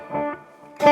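Slide guitar played through a delay effect, sustained notes swelling and repeating in a thick, echoing wash before a brighter fresh strum near the end; no voices.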